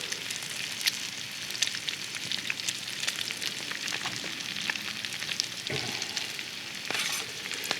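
Eggs fry and get stirred in a cast iron pan over a campfire, a continuous close sizzle with scattered scraping taps and crackles throughout.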